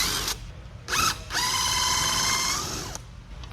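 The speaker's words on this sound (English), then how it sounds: "We'll go ahead, pull that nut and washer off." A power drill or driver spins in short bursts, first a brief whir and then a longer steady whine, as a nut and washer come off a pontoon boat console.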